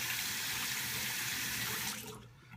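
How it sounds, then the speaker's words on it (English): Hot water runs from a tap into a sink in a steady, close splashing stream that fades and stops just before the end. "Some hot water."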